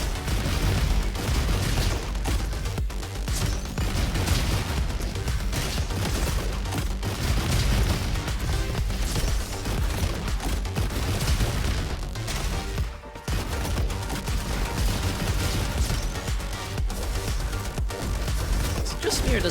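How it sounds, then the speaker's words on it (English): Uzi submachine guns fire almost nonstop in the robot shooter Roboquest, dense rapid bursts with heavy booms and impacts, briefly stopping once before the barrage resumes. "I'll stick with the Uzis."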